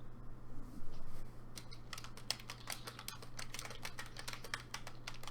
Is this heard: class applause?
no